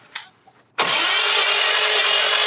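Car engine cranking and catching during a compression test on a VL quad turbo, a short stutter and pause, then a loud, sustained engine roar close by that settles into a steady hum, with no talking.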